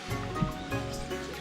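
Spring water gushing from a mountain source pours steadily into a pipe or hole, a loud, close, continuous rush with a low rumble and no pauses.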